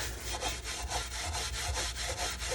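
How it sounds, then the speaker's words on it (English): Fine 0000 steel wool rubs back and forth across a flamed maple guitar top, a steady rhythmic scrubbing with evenly spaced strokes, close and fairly loud. "I take some 4-aught steel wool and just quickly give it a little rub down."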